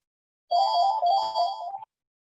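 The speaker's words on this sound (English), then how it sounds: "it's my phone ringing" A mobile phone ringtone plays a bright electronic melody in two short bursts, loud and close, lasting over a second before cutting off abruptly; no speech during the ring.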